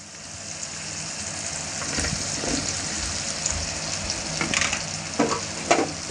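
Steady sizzling of cut potatoes frying in mustard oil with spices for an aloo sabzi, close and continuous, with occasional stirring scrapes and bubbling getting a little louder toward the end, no talking.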